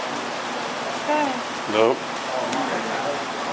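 Steady rain on a rainy day hisses as a constant broadband wash, with a couple of brief voices speaking over it.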